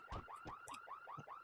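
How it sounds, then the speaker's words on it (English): A car-alarm-like electronic tone from the video game Pokémon Colosseum, repeating rapid falling chirps with low thumps, faint and alone. "Just car alarm sound."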